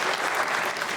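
A brief second of thick, even clapping from the studio audience of the comedy show Hasna Mana Hai, a continuous wash of many hands with no voices over it.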